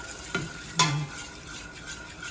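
Turmeric frying in hot oil in a pot gives a faint, steady sizzle, with two short stirring scrapes near the start and no voices.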